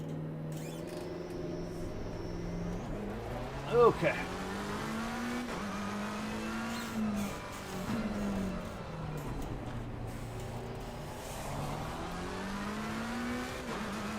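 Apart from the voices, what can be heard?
car approaching in a racing video game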